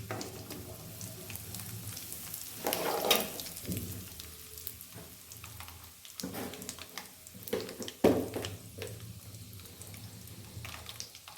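Chana dal and asafoetida sizzling in hot oil for a hotel-style potato masala, a steady low crackling fry close by with a few louder bursts and stirring clatters.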